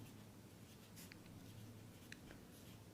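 Marker or chalk writing on a board during a physics lesson on series and parallel resistors, faint soft strokes over a steady low room hum, no talk.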